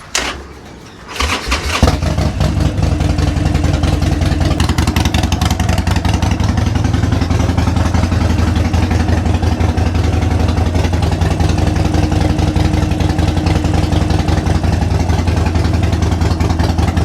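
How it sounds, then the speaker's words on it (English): A Harley-Davidson Sportster 72 motorcycle, just after an oil change, cranks briefly and then fires up. It settles into a loud, steady, close idle with a lumpy rumble, and no voices are heard. "And now we start the bike."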